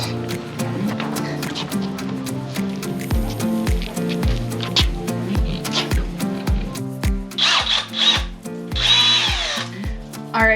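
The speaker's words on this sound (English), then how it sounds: "pre-drilling the wood in the metal first and then going through with a different drill and screwing it in" A power drill whines in short repeated bursts as screws are driven through wood and metal in a school bus ceiling, its pitch dropping under load, with metallic scraping and grinding toward the end.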